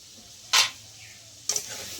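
A raw mango and mint sherbet with salt and sugar is stirred by hand, with two short, bright swishing strokes about a second apart over a quiet background.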